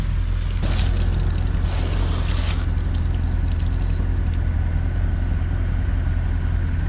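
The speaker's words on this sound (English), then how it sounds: "Put some water down, and then immediately it just all kind of comes right off" Water poured onto the ceramic-coated paint of a C8 Corvette with paint protection film hisses and splashes briefly, then runs off over a steady low engine-like hum.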